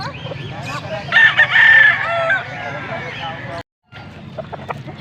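Gamecock stags crow at a rooster market in Angeles, Pampanga, one loud nearby crow ringing out amid other crowing and clucking fowl, with a chatter of people and market noise throughout and a brief drop to silence near the end.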